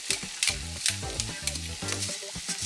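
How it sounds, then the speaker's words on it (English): Meat for a lobster and crab sandwich frying in a pan over medium heat, with a steady close sizzle broken by rhythmic scraping and stirring clatter. "here's the sizzle"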